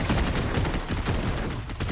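Dense, continuous rapid-fire rattle of dual rotary cannons in a ZeroSpace battle, loud and unbroken for the whole moment.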